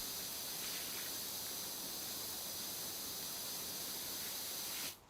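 A pressure washer in the Power Wash Simulator video game blasts mud off with the white nozzle, a loud, steady, broadband hiss of spraying water that runs unbroken for several seconds and cuts off abruptly at the end.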